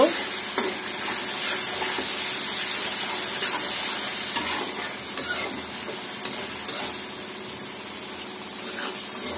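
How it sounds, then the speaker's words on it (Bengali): Shrimp with onion and spices sizzle steadily as they are stir-fried in a pan, a close, continuous hiss broken by occasional scrapes and clicks of a spatula. "এখন এগুলো সব ভালোভাবে কষায় নেব"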